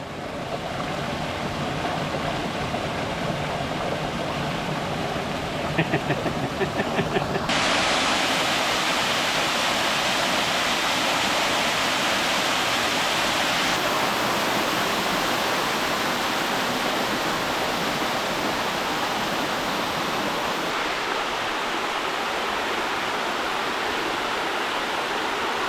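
Whitaker Creek in the Upper Buffalo Wilderness tumbles over rocks in a loud, constant roar of moving water, close and sustained, its texture changing a few times as the position shifts.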